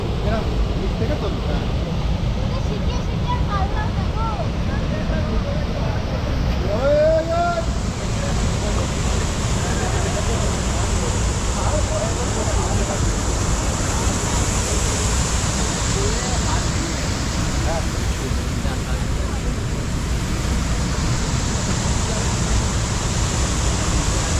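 The Ghagra waterfall near Belpahari in Jhargram pours in a constant, broadband rush of falling water that stays loud and unbroken throughout, with faint higher sounds scattered over it.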